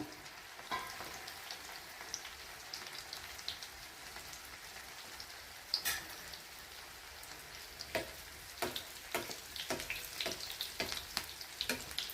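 Potato finger snacks frying in hot oil over a medium flame, giving a steady fizzing sizzle with scattered crackles and pops that grow busier toward the end, close by and with no talking.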